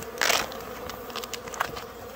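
Honey bees buzzing during a bee rescue from a hive of about 40,000 bees, with a short swell of close insect buzzing early on, then a thinner, steady hum and faint tapping against wax.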